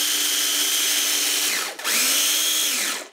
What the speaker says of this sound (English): A pinch of salt into one cup of the oats, and just grind these up until they're very fine.